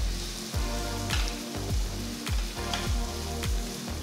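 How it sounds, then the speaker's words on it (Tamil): Onion, ginger, garlic and green chili sauté in a hot pan with a steady sizzle, broken by a few scraping stirs and a repeating low rhythmic thump. "வெங்காயம் நல்லா வதங்கிட்டு இருக்கு"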